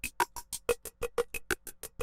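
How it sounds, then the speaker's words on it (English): A quick, evenly spaced percussive drum loop of short, crisp hits alternating in tone, about six per second, played alone. "Started off with this cool drum loop."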